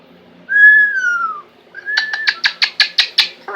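A pet bird gives a clear, loud whistle that slides downward, then a short rising note, then a rapid series of about eight sharp, rhythmic chirps, close to the microphone in a quiet room.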